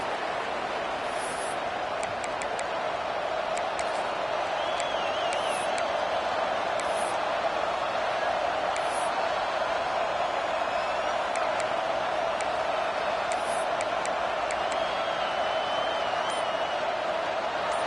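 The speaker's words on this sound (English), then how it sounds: "This crowd ready to make its presence known." Stadium crowd in an EA Sports College Football video game: a steady, broad roar of fans holding at a constant level throughout, with faint whistles and scattered cheers rising above the wash.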